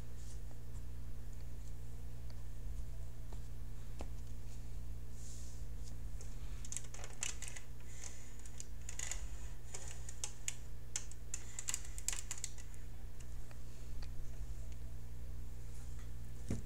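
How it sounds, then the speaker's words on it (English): Tarot cards are cut and shuffled, making a run of light papery taps and flicks that cluster in the middle, faint and close over a low steady hum, with no talking. "I'm going to cut the cards."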